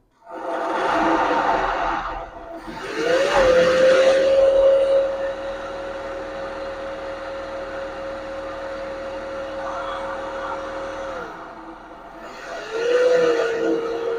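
A 6 kW generator running after starting, with a steady, loud mechanical drone holding one pitch for several seconds, then easing off, framed by rougher bursts at the start and end.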